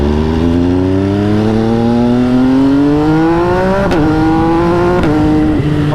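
An MV Agusta Brutale 800 RC triple-engine motorcycle with an SC exhaust accelerates hard, its engine note climbing loud and close through several gears with brief dips at each shift.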